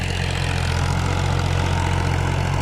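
A tractor engine pulls a seed drill sowing wheat in a field, a steady, loud low diesel drone with an even rumble that holds unchanged throughout, with no voices.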